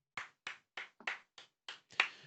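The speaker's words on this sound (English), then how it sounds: "Wee round of applause for the boys" Seven or eight separate, evenly spaced hand claps in a small wee round of applause, close and fairly quiet, with silence between claps.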